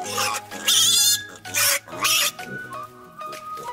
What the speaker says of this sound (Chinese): 随后自然是要将2只小野猪给一一拿出来，让它们好好的熟悉这一个新家了。